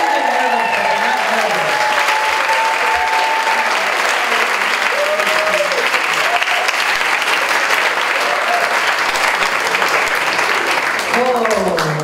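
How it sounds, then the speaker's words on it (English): Audience at a Kauaʻi hula performance gives a round of applause as the dancers of Halau Ka Lei Kukui Hiʻilani come on, loud dense clapping sustained throughout, with voices and cheering threaded through it. "So as they come on, give them a nice round of applause,"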